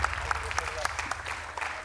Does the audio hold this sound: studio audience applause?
yes